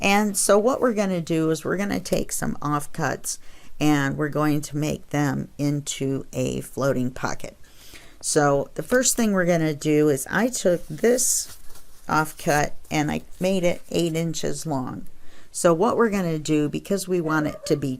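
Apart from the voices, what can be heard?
No everyday noises stand out.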